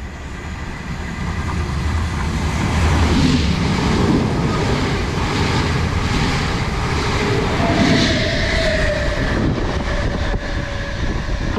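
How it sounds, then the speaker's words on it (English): Two Class 455 electric trains heading to London Waterloo pass at speed, a loud, continuous roar and rumble with wheel noise swelling and holding steady before easing slightly at the end; no talking. "coming through now is going to be a passing pair of 455s heading to London Waterloo"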